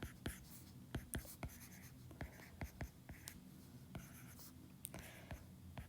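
A pen writing out a math series by hand scratches and taps in quick irregular strokes, close and fairly faint, with soft breathy sounds but no clear talk.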